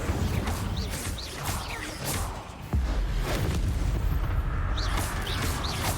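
An Incendio fire spell blast in the Hogwarts Legacy game, a loud whooshing burst with a heavy thump amid a busy clash of impacts and crackling bursts, close and dense throughout.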